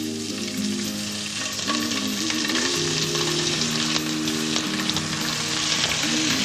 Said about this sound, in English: When your fish is sizzling